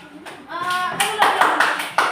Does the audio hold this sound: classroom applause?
yes